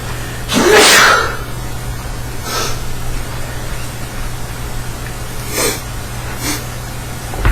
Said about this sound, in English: Excuse me, I gotta sneeze.